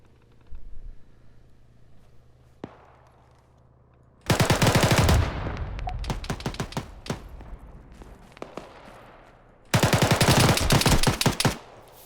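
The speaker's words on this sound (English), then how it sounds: "I've got people shooting me from the tower as well." Bursts of automatic rifle fire from AK-74s in an ARMA 3 battle crack in two loud, rapid volleys separated by scattered single shots and quieter background firing.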